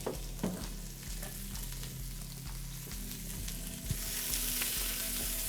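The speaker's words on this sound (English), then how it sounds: "we're going to get our onions on frying for the masala filling" Onions for a masala filling sizzle steadily in a hot pan, a continuous close crackling hiss that grows brighter and louder toward the end.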